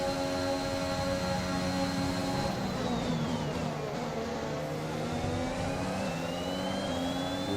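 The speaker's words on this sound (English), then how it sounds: "Stroll's going to come back at us with that extra power in the Mercedes engine" Formula 1 race cars with Mercedes power in the F1 2021 racing game scream past at high revs, a steady loud engine whine with pitch sweeps as they shift and pass, no speech.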